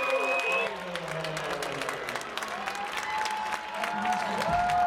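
After a soccer goal, a home crowd keeps up a broad roar of cheering and clapping, distant and steady, while a commentator's voice talks over it.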